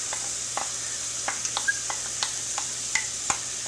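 Onion dropped into hot oil for outdoor cooking, with a soft, steady frying hiss and scattered sharp pops and crackles at an irregular rhythm, heard close and without talk.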